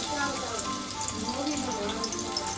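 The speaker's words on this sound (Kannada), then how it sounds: "ಇವಾಗ ಕಟ್ ಮಾಡಿ ಇಟ್ಕೊಂಡಿರೋಂಥ ಈರುಳ್ಳಿನ ಹಾಕೊಳ್ತೀವಿ" Chopped onions fry in hot oil in a home kitchen while chicken sambar is being made, giving a steady, dense sizzle that runs throughout, with a voice faintly audible underneath.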